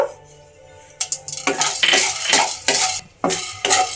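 Whole garam masala (cloves, cardamom, cinnamon) and black peppercorns being stirred in a dry kadai, with loud close metallic scraping and rattling strokes, irregular bursts between short pauses and a faint sizzle underneath.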